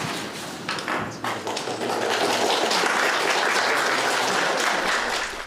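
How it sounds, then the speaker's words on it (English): Applause breaks out from the gallery of a courtroom at a preliminary hearing, a dense, steady burst of clapping building after a brief voice and holding loud for several seconds. "You could hear some of the applause there from the gallery."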